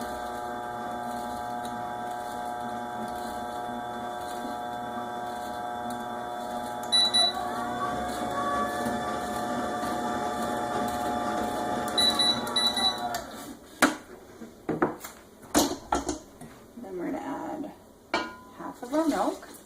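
Chocolate tres leches batter of flour, cocoa powder, baking powder and milk being stirred in a bowl, a steady scraping and clinking of utensil against the bowl under a constant background hum, turning into more irregular knocks and clatter near the end.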